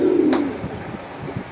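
Pigeons at a bird market in Jinjira bazaar give a short, soft coo, close and brief against faint background murmur.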